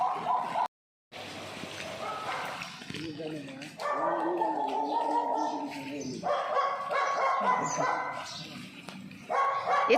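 A dog barks repeatedly outdoors in the rain, with howling, whimper-like yips mixing with people talking nearby throughout.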